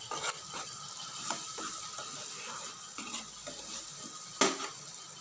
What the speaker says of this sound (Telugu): ఇప్పుడు చేపలు నెమ్మదిగా ఒకటొకటి యాడ్ చేసుకోవాలి